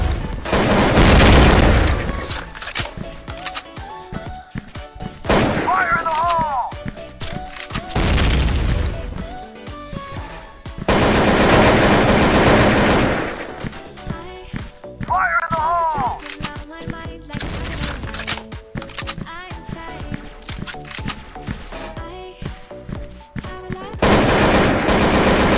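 Heavy rapid-fire AK rifle bursts in a video game rattle repeatedly with loud booms and sharp metallic clanks, nearly continuous, close and loud throughout.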